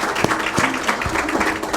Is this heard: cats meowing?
no